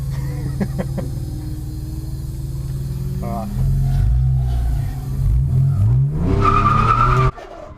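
A car drifting in donuts around a cone at a drift school event, its engine droning and surging low while tires skid, ending in a loud rising tire squeal just before the noise drops away.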